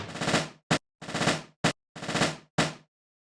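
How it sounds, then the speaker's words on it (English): Three loud rapid marching-drum rolls that swell in volume, each capped by a sharp accented hit, evenly spaced with brief silences between. "You kind of get that marching band sound, marching drums."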